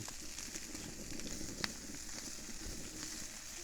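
Food sizzling in a pan on a camp stove at a remote mountain campsite, a soft, even crackling hiss with one brief sharp pop, quiet and close.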